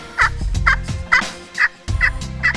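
Wild turkeys in a flock gobble repeatedly, about six rapid rattling calls in quick succession, fairly close and loud, heard on a spring turkey hunt at first light.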